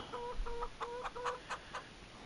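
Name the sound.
chickens clucking in the Farming Simulator 25 video game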